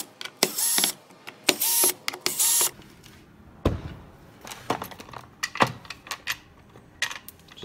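A small cordless driver with a 5/32 bit backs bolts out of a Boosted electric skateboard, three short high-pitched whirring bursts followed by clacks and clatters of the bolts and tool being handled.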